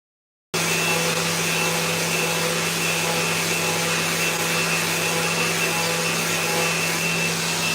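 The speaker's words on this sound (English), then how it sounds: "So let's get these sanded up now." Power sander working a purple heart box and a maple chopping board, a steady loud continuous whine and hum running unbroken after a short silent start.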